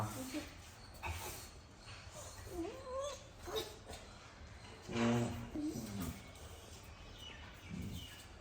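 A pet dog whimpering and yipping in short, high, rising whines scattered across several seconds, faint and fairly close, with people talking quietly in the background.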